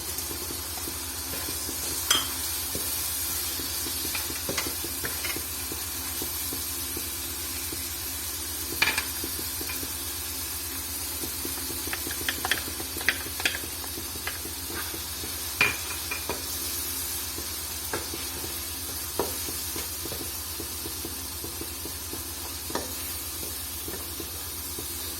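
Chicken with masala, tomatoes and green chillies sizzles and hisses steadily in a pot for mixed vegetable pulao, with occasional spoon clinks and scrapes against the metal, close and continuous with no talking.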